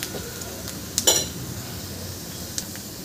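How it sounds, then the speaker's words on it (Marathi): Onions frying golden brown in a pan for a sprouted fenugreek seed curry, a steady close sizzle broken by a sharp clink of a spoon stirring against the pan and a lighter tap later. "मी कांद्याला छान शिजवून घेते."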